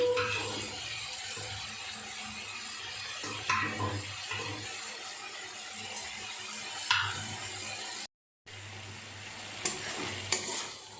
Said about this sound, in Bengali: একটু মশলাটাকে কষিয়ে নেবো, সবই তো গুঁড়ো মশলা